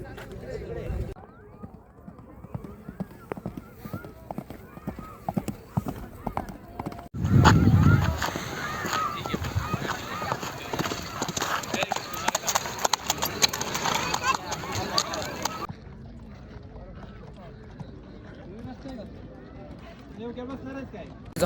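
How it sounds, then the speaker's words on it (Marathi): Horse hooves during a horse ride at a hill-station outing, light irregular clip-clop thuds heard close alongside frequent talking, with a louder burst of noise midway. "चला गाईज हॉर्स रायडिंग बघतो."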